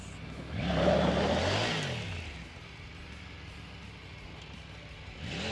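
A Triumph Tiger 900 Rally Pro adventure motorcycle revs through a spin turn, its engine rising and falling in a mid-pitched surge, fairly close, then settling to a low idle before climbing again.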